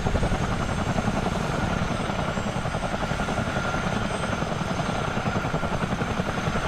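Steady, loud thudding rotor and turbine drone of a Miltech CH-47D Chinook tandem-rotor military helicopter in Microsoft Flight Simulator 2020, continuous and close with rhythmic blade beat, no talking.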